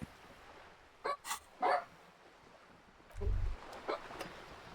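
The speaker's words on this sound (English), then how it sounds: "Dog is awake." A dog in the video game Disco Elysium barks several times, short separated yelps and woofs spread over a few seconds, heard fairly faintly over a quiet background.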